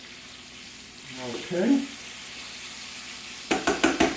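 Prosciutto and shallots sizzle softly in a frying pan, a low steady frying hiss, interrupted by a brief spoken word and a few clattering knocks of a utensil against the pan near the end.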